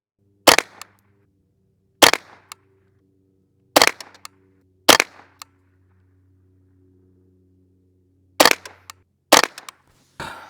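A Ruger 10/22 rimfire rifle fires single, sharp shots spaced slowly at irregular intervals, about seven reports with quick short echoes trailing each one, loud and close over a low steady hum.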